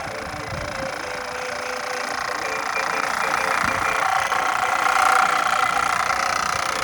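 Mamod model steam engine running: a steady mechanical whirring and hissing with a faint rattle, close by and gradually growing slightly louder.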